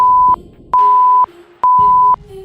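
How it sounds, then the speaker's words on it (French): Censorship bleeps cover an insult in a Squid Game-themed live stream: three loud, sustained pure tones, each about half a second long, separated by short gaps of background sound. "ça aussi, on va le biper."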